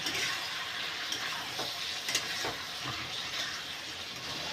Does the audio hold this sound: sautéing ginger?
yes